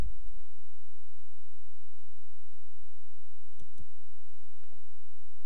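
A computer mouse clicked a few times: sparse, sharp, quiet clicks near the start and another pair later, against near silence.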